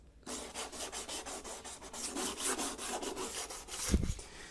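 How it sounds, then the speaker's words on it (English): Rhythmic back-and-forth rasping of 220 grit sandpaper rubbed along the edges of a 3D printed object, about a dozen quick close strokes in steady succession ending with a soft knock. "take some 220 grit sandpaper and just sand off all the edges"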